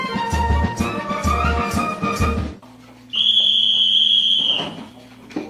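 A whistle blows to signal bedtime at 10 o'clock in army barracks: a single steady, shrill whistle held for about a second and a half after some louder music-like sound.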